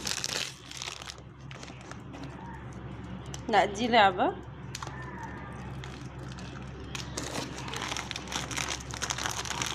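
A plastic snack bag from a carton of heart-shaped chips crinkles and rustles as it is torn open, with a louder burst of crackling partway through, while people talk over it.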